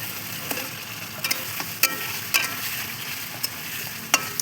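Chicken pieces frying with spice masala in a pot for biryani, a continuous close sizzle punctuated by sharp, irregular spatula clicks and scrapes against the metal as the mixture is stirred.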